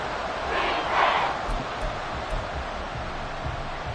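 A large stadium crowd in the Madden football video game roars in a broad, steady wash of noise, swelling briefly near the start before settling into a constant din.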